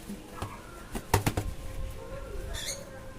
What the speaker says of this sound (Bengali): এ হলো নীলদম পায়রা